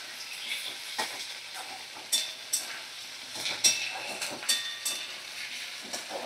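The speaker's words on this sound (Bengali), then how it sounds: "মিডিয়াম ফ্লেমে রেখে আমি সমস্ত মশলার সবজি ভালো করে নাড়াচাড়া করে নেব।" Vegetables and spices are stirred as they fry with goat liver over a medium flame, giving a soft sizzle broken by quiet, irregular scraping strokes of a spoon against the pan.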